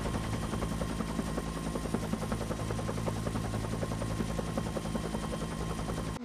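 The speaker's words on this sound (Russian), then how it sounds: "два вертолета К-32 и один Ми-8" Two Ka-32 helicopters and one Mi-8 at a fire: rotors thump in a rapid, steady chop over a constant turbine whine, sustained and fairly distant.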